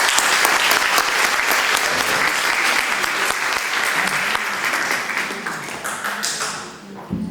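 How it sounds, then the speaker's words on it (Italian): An audience in a theatre hall claps steadily and densely for several seconds, the dense applause staying loud before tapering off at the end. "un grosso applauso"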